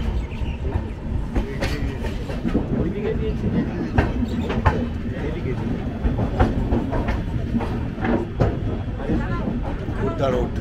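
A train pulls into Khurda Road railway junction, a station of the East Coast Railway, on the Howrah SMVB Express, with a steady, loud rumble and clattering wheels on rails. Voices murmur throughout.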